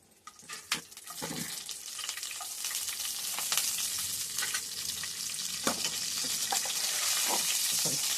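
Two green chillies drop into hot oil already holding spice seeds, raising a steady, close sizzle and spatter that builds and holds throughout, with a few sharp pops near the start and no talk.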